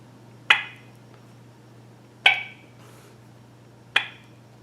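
Three sharp lip-smacking clucks made by a human voice imitating a turkey, spaced evenly about two seconds apart, close and crisp over a faint steady hum with no speech.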